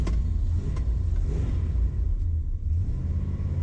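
A 1968 Dodge Super Bee cruises along, its engine giving a loud, continuous low rumble from inside the car, with no talking.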